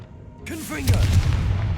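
Confringo fire-blast spell in Hogwarts Legacy, a rising magical whoosh with tonal swirls that bursts into a loud, rumbling explosion and lingering crackle.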